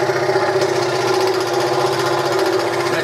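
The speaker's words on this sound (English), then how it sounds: "I just cut this bit of wood to see if it blows the dust away." A Hegner scroll saw cuts a piece of wood while its bellows blows sawdust off the cutting line, giving a steady, close, rapid mechanical buzz that runs unbroken and alone throughout.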